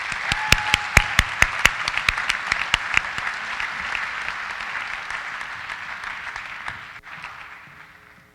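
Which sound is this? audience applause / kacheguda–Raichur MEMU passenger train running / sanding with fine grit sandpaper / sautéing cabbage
audience applause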